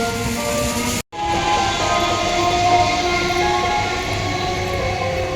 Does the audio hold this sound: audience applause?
no